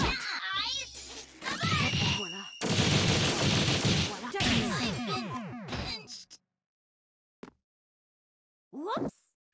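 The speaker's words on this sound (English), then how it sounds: "Napalm shot!" Painwheel's napalm shot attack in the fighting game SGM sounds as a rapid volley of sharp, crackling bursts and whooshes amid busy game effects, followed by a few isolated hits.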